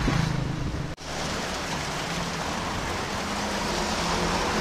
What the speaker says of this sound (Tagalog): dapit kay kusog magulan